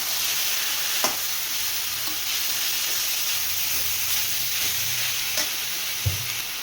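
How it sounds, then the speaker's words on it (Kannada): Goat blood frying in a pan with ginger garlic paste gives a steady hiss and sizzle throughout, with a few faint stirring knocks and scrapes and no voices. "ಶುಂಠಿ ಬೆಳ್ಳುಳ್ಳಿ ಪೇಸ್ಟ್ ಹಸಿ ವಾಸನೆ ಹೋಗೋವರೆಗೂ ಫ್ರೈ ಮಾಡ್ಕೊಂಡಿದ್ದಾದಮೇಲೆ ಅವಲ್ಲೇ ಕಟ್ ಮಾಡಿ ಇಟ್ಕೊಂಡಿದ್ನಲ್ವ ಬ್ಲಡ್ಡು, ಅದನ್ನ ಹಾಕ್ಕೊಂಡು ಅದು ಫ್ರೈ ಮಾಡ್ಕೊಳ್ತಾ ಇದ್ದೀನಿ."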